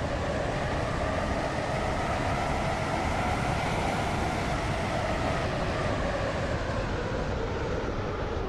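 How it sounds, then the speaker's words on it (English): A Waterline passenger train to Newry rumbles along at steady speed, heard from inside a carriage as a continuous, even roar with wheel noise and no voices. "This train is now approaching Benton."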